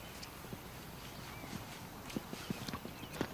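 A racehorse's hooves clip-clop at a steady walking pace, faint and somewhat distant, each clop a soft, distinct knock over a continuous hiss of background ambience.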